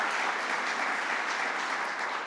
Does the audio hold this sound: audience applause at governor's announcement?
yes